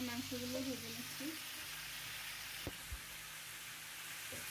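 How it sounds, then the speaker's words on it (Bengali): Chicken pieces fry in a pot as they are turned over, a quiet steady sizzle with a couple of sharp utensil knocks partway through and a voice briefly heard at the start. "মুরগিগুলো এপিট ওপিট করে ভেজে নিচ্ছি।"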